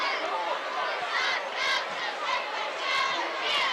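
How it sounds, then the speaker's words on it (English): Football crowd at Claude Mann stadium during a close high school game, a dull murmuring roar with scattered shouts rising and falling, somewhat subdued, and a commentator speaking over it. "Crowd is quieted somewhat here at Claude Mann as Lakeside has gotten closer and closer to the goal line."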